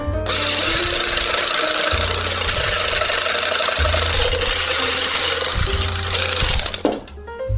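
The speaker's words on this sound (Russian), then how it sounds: "И продолжаем взбивать, пока сливки не достигнут консистенции густого" An electric mixer whips cream for tiramisu in a steady, loud, continuous whir with a rough grinding edge. It runs for about seven seconds, then cuts out near the end.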